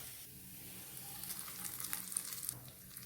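Hot tempering of fried onions poured into a tomato chutney, making a faint, brief hiss and crackle of sizzling oil that builds slightly toward the end.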